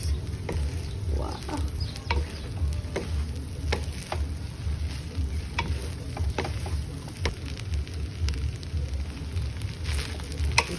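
Luncheon meat being stirred and fried in a pan for fried rice, a steady soft sizzle broken by repeated clicks and scrapes of the utensil, close and fairly quiet.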